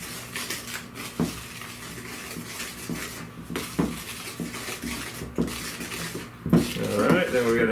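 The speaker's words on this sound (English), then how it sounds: "we're going to mix in the flour about 1/3 at a time" Flour is mixed into batter in a bowl while making pineapple and coconut bars: steady scraping and stirring with the occasional clink of a utensil against the bowl, close and moderate, under a person talking.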